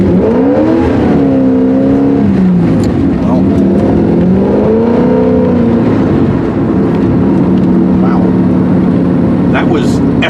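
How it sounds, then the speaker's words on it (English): An LS V8-swapped Porsche 944 on carburetors spins both rear tires, its engine loud and close as the revs rise and fall in continuous surging sweeps. "That was effortlessly spinning both tires."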